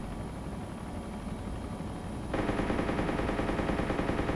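Rapid continuous automatic fire from an M621 chain gun firing high-explosive rounds in the video game ArmA 2: Operation Arrowhead, a dense mechanical roar that grows louder partway through, with no pauses or talking.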